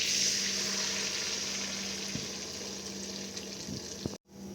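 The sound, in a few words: egg mixture poured into buttered pan, frying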